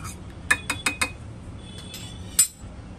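A spoon clinks against a bowl while stirring food colour into milk: a quick run of four light metallic taps, then a pause and one more clink, close and clear.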